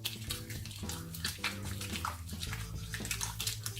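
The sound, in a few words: washing hands with running water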